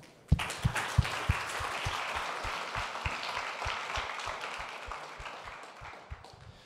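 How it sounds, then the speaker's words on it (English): Sustained audience applause at a data science conference talk at Landing Festival Lisbon 2018, dense clapping from a full room with sharp individual claps near the start, steady and fading slightly toward the end, no talking. "Another round of applause, please."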